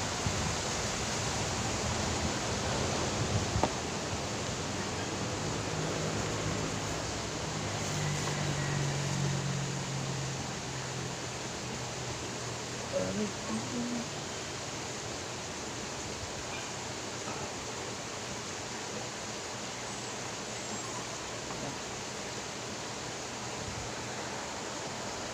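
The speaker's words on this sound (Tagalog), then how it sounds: "nagkaroon ng sapa yung gilid ng bahay namin oh. Malakas ng tubig oh." Steady broadband rush of a strong stream flowing beside a house, loud and continuous throughout, with a few faint knocks partway through and no voices.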